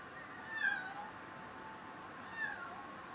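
A cat meows twice, each a short, faint, rising-and-falling cry about two seconds apart, over low background noise.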